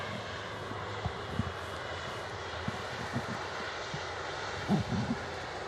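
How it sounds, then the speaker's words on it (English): A Virgin Atlantic Airbus A380 taxis at Manchester Airport, a steady, moderately distant engine roar with a few faint knocks and thumps and no talking. "Virgin Atlantic A380 taxiing past here."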